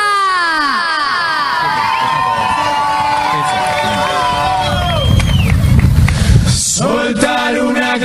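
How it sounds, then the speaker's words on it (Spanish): Crowd at a murga carnival performance cheers and shouts, many high excited voices and whistles layered together, swelling into a louder burst of noise near the end. "¡Fuerte el aplauso!"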